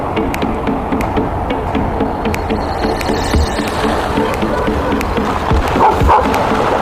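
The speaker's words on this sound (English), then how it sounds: "It's a dog over there." A dog barks outdoors near a river, with repeated sharp barks and yips over a steady broadband background of water or wind, heard at moderate distance with no talk.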